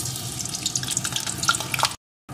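Half a potato frying in hot oil in a pan, a steady close crackle and sizzle with small pops, ending in abrupt silence.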